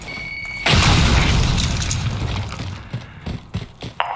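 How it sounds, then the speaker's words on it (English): A grenade detonates in Call of Duty: Modern Warfare with a sudden heavy boom and debris crash that rolls off over a couple of seconds, followed by scattered clattering impacts. "Throw a grenade."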